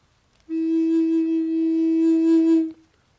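A meditation flute blown from one side gives a single sustained, steady tone with a breathy edge, lasting a little over two seconds, close and alone against near silence.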